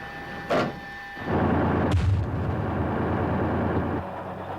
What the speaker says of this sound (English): A laser rangefinder aims a 105mm main gun.